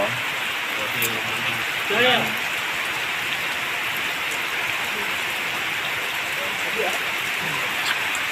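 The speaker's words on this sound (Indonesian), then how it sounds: "Iki pa hujan-hujan po enak banget cuacane." Steady heavy rain pours down outdoors as a continuous dense hiss throughout, with brief voices talking faintly beneath it.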